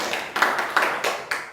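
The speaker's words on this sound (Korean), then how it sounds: "네, 박수." Five distinct, evenly spaced claps from a small group at a meditation session, crisp and close, each sharp attack fading quickly before the next.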